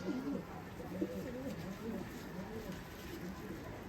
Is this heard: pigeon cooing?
yes